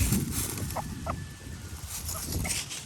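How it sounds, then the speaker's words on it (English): A rooster clucks outdoors in a few short, scattered calls over a steady background hiss, moderately close and fairly soft. "He's a silly rooster."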